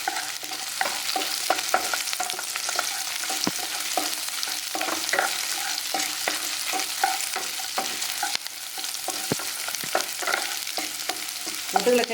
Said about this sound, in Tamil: இப்போ காஞ்ச மிளகா போட்டாச்சு. பூண்டு பல், இஞ்சி